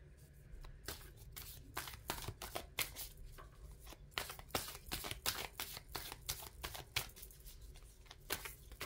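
A deck of Light Seers Tarot cards is shuffled by hand, producing a steady rapid run of crisp riffling and flicking clicks at close range.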